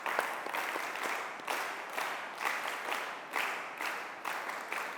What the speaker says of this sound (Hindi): इनके लिए एक तालियां